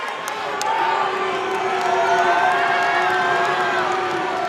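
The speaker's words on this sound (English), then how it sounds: "Crowd going crazy." Crowd at a varsity boys high school basketball game roars and cheers continuously at a steady, loud level, with scattered shouts and a few sharp sneaker or bounce sounds.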